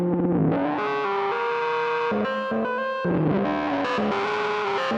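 Modular synth run through an A-124 WASP filter in bandpass mode, self-patched into its CV input with resonance set high, giving a harsh, distorted, warbling tone whose pitch steps and slides continuously, loud and steady with no talking.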